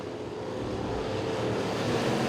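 Factory pure stock race cars roaring around a dirt raceway during a nighttime heat race, a steady, continuous loud engine drone filling the whole stretch with no voices.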